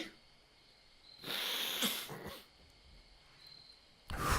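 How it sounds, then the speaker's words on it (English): A man breaks into a short, sudden burst of sneezes, two or three close sharp bursts, with near silence around them and a final loud exhale at the end. "That was a sudden fit of sneezing, which was unexpected."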